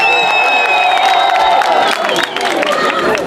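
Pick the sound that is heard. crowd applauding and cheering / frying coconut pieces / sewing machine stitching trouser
crowd applauding and cheering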